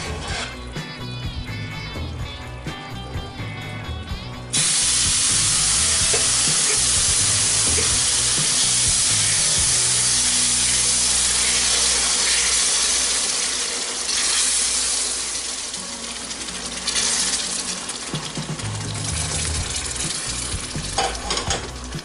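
Sugar syrup is poured into roasted semolina in a pan for suji halwa, setting off a sudden loud, steady sizzle and bubbling that carries on close up, with stirring and no talk.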